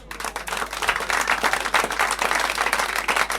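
Concert audience applauding for a singer: dense, continuous clapping from a crowd, loud and sustained throughout.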